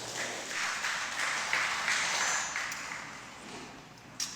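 A church congregation applauds, a steady wash of many hands clapping at moderate distance that holds throughout and tapers slightly near the end, with one sharp clap standing out at the close.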